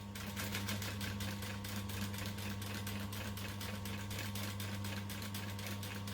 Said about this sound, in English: you can hold the fabric up to help it go into the roll hem foot.